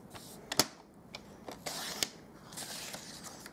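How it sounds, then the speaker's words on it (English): Cardstock being cut in half with a trimmer or blade, a few quiet sharp snips and scraping strokes in an irregular rhythm, close and fairly faint, no talking. "Okay, and we're going to cut this in half."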